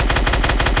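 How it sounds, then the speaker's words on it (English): Rapid gunfire from a pair of SCAR assault rifles fired together in a video game, a dense, continuous mechanical rattle of closely spaced shots at steady high volume for under a second, with no talk. "the next weapon we're gonna showcase is the Nofies Dual Assault Rifle"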